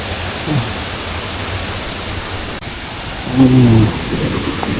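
Tat Kuang Si waterfall near Luang Prabang, Laos, roars steadily as a broad, constant rush, with a couple of faint voices briefly audible beneath it.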